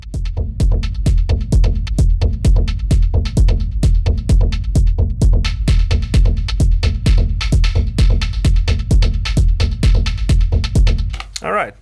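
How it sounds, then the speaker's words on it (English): Digitakt plays a sampled, stabby hi-hat-like sound tuned down, with delay, reverb and panning, in a fast steady rhythm of sharp hits that continues loudly throughout the sequence. "It's kind of a hi-hat but stabbier, right?"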